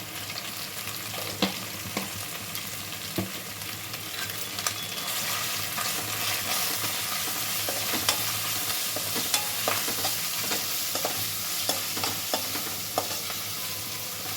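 Carrot rice ingredients fry in a pan under a continuous close sizzle. A spatula scrapes and taps against the pan again and again, and no one talks.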